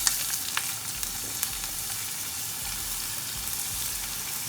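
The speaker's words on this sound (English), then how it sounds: "So just lightly saute all the vegetables." A steady close sizzle of onions, carrots and other vegetables sautéing lightly in oil in a hot pan for dumpling filling, with faint stirring and a few soft clicks and pops, no voices.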